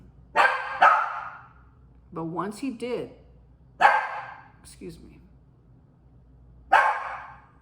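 A dog barks in three loud, close bursts spaced a few seconds apart, while someone speaks briefly between the barks.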